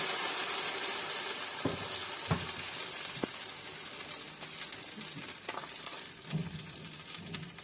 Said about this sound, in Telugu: ఈ ఊతప్పం పిండిని అయితే ఈ విధంగా ఆయిల్లో వేసుకోవాలి